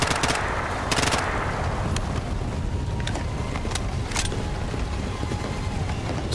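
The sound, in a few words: gunfire in the video game Bright Memory Infinite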